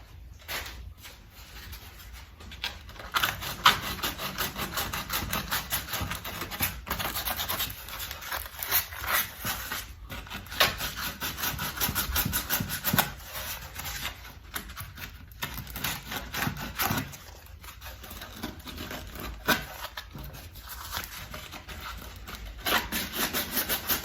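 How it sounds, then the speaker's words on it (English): Wood planter being hand sanded with Norton Pro sandpaper, a steady rough scratching rubbing in quick back-and-forth strokes, close and continuous with brief pauses, no talking. "I'm just trying to sand out 9 holes and this paper's destroyed."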